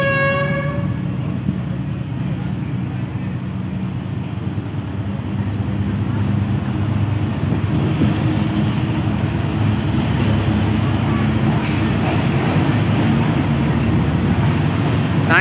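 Train arriving at Multan Cantonment railway station, a loud, steady rumble of rolling wheels and carriages close by, with a brief horn-like tone at the start.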